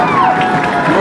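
A high school football crowd at Northwest cheers after a 39-yard field goal, a brief, broad roar of many voices in an outdoor stadium.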